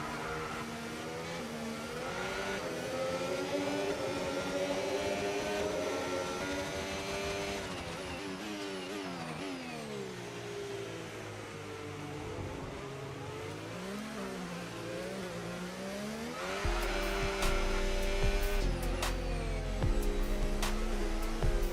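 Race car engine in the F1 25 video game, a steady high-pitched whine with shifting revs that dips and climbs through gear changes, louder near the end, heard alone without talk.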